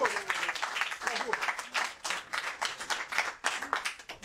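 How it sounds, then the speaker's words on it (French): An audience at a Cheikh Anta Diop Day 2019 event claps for Jahlyssa Sekhmet, with moderately close, uneven applause in bursts while voices speak and call out over it. "Vraiment, 2 heures d'applaudissements pour Jalissa,"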